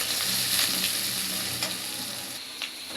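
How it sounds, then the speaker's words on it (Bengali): Green chilies, onion and sugar fry together in hot oil in a kadai, giving a steady, close crackling sizzle that runs throughout with no voices. "এখানে আছে কাঁচামরিচ পেঁয়াজ আর চিনি এটা আমি একসাথে ভাজিয়ে নেব"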